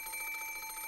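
A telephone rings in a visual novel video game, a steady electronic ringing tone with bright repeating pulses that fills the moment without any talk.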